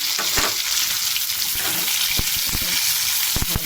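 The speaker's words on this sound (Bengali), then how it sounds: "লাল লাল করে ভাজা হবে সব একসঙ্গে।" Chopped onion, green chilli, garlic, ginger paste and tomato sizzling together in a pan, a constant loud frying hiss broken by sharp clinks of a spatula stirring against the pan.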